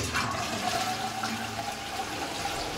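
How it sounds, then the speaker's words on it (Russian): A clean toilet flushing in a house fed by a borehole water system, a continuous loud rush and gurgle of water lasting throughout, close by and without speech. "Унитаз, который чистенький, но не наш."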